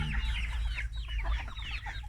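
Laying hens on a farm flock cluck continuously in a dense, close chorus, with several birds calling at once over a low background rumble.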